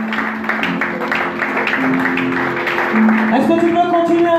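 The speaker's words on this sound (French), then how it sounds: "Continue à l'acclamer et tu pousses des cris de joie." A church congregation during a worship service cheers and acclaims together, a sustained wash of crowd voices and shouts of joy blended with music, steady and fairly loud throughout.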